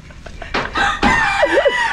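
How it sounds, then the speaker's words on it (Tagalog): Rooster crowing close by in a rural yard, a rising and falling crow following a few short clucks, loud and clear with no talk over it. "May trapang manok."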